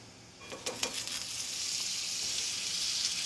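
Butter sizzling in a hot pan that already holds oil, a few quick crackles at first swelling into a steady, bright hiss that continues to the end, with no talking.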